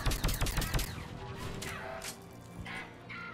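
Rapid weapon fire in a Mass Effect 3 firefight, a quick cluster of sharp shots at the start followed by scattered impacts and fainter bursts fading off.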